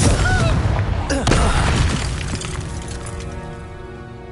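A Confringo blasting spell explodes in Hogwarts Legacy with a loud booming burst and crackling debris, then a ringing tail that fades over a few seconds.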